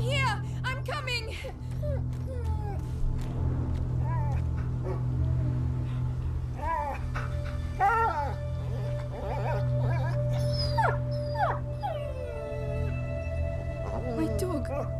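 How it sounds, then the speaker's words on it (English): Dog whimpering and yelping in the video game A Plague Tale: Innocence, high plaintive cries rising over a steady low game ambience, with voices speaking at moments. "My dog."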